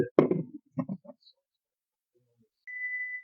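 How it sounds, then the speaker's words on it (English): A kitchen timer gives a single steady electronic beep tone for about half a second near the end, after some brief indistinct talk and clatter at the start. "that's the sound of the timer"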